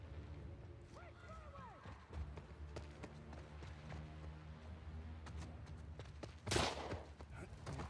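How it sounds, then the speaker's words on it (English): Footsteps in the video game The Last of Us Part II, soft repeated steps under a busy game soundscape, with a sharp loud burst near the end and talk nearby. "All I hear is footsteps."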